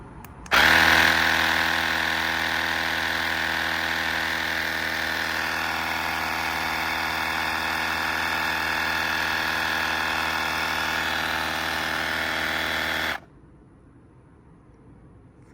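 An AUXITO electric tire inflator pump runs with a loud, steady buzzing drone for about twelve seconds, then cuts off abruptly, leaving quiet background.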